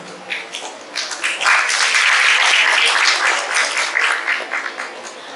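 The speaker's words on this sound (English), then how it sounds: "Let's welcome every young ambassador with a warm round of applause" A school audience at an Independence Day celebration breaks into a warm round of applause for student ambassadors at a badge ceremony, building from scattered claps into a full, loud sustained ovation before tapering.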